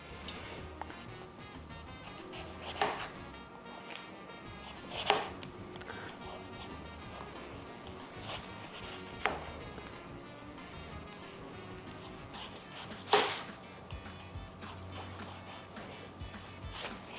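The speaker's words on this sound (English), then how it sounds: "So let's chop this up." A knife chops watermelon in a home kitchen, with several sharp, irregular cuts landing on a board every few seconds over a faint steady background and no speech.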